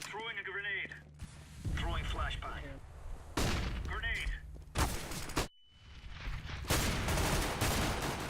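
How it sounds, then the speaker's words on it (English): Gunfire in the shooter game CS:GO while the player strafes, with several sharp bursts of shots in quick succession and someone speaking between and over them. "I was strafing and shooting him, but man, he caught me."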